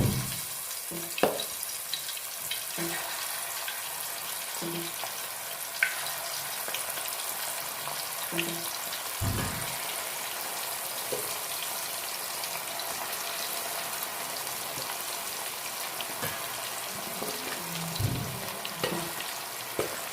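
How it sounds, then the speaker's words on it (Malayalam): Chicken pieces shallow frying in hot coconut oil, a steady close sizzle with occasional stirring clinks and scrapes throughout, without speech. "ഇനി ചിക്കൻ പീസുകൾ ഓരോന്നും ഇട്ടൊന്ന് വറുത്തെടുക്കാം"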